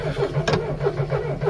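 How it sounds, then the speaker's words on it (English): An old classic car engine, just freed from seizing, cranks and fires up, loud and close, with a steady rhythmic chugging pulse and no voices. "We're going to take you through on a fire up now."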